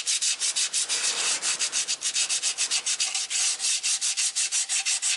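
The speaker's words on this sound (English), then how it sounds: "I just use sandpaper" Sandpaper is rubbed by hand over a carburetor part for a 1964 GMC, giving a rapid, even series of close, scratchy back-and-forth strokes with no talk.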